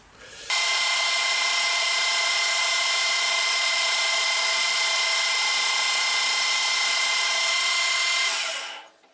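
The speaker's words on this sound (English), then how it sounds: "I will clean this up with the angle grinder." An angle grinder cleans up a brake part, spinning up abruptly into a loud, steady high-pitched grinding whine that holds for about eight seconds before winding down, close and alone.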